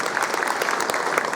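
Sustained audience applause at a Guru Purnima celebration gathering, a steady dense clatter of many hands clapping throughout, fairly loud and close with no talk over it.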